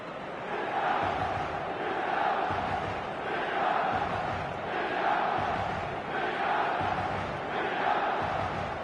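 Stadium crowd in the eFootball 2026 video game, a steady roaring mass of voices with rhythmic swells of chanting rising and falling about once a second, loud and continuous throughout.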